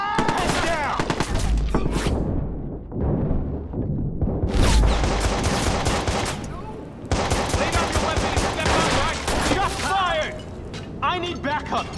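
Bursts of gunfire crack in Watch Dogs, some loud and close with rapid mechanical rattling. A few short pauses break the shooting, and voices call out over the fire.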